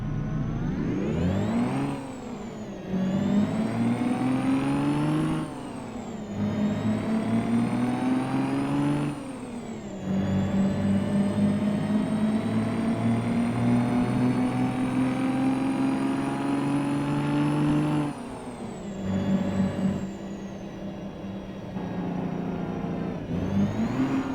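A custom Peterbilt truck engine in American Truck Simulator revs repeatedly, pitch climbing and dropping in several long pulls and brief gear-change dips, loud and steady with no talk over it.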